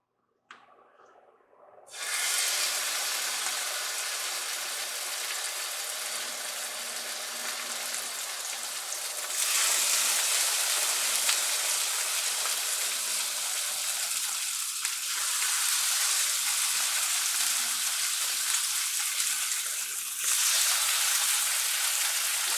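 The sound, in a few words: salmon fillet frying in extra virgin olive oil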